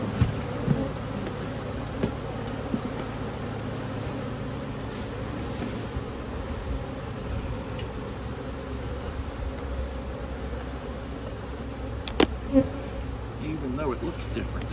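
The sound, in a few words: bees buzzing around a hive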